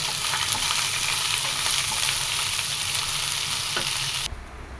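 Shallots, ginger, green chili and curry leaves sauté with coconut in a hot pan for a nadan beef fry, a steady loud sizzle with stirring scrapes that suddenly drops to a quieter hiss near the end.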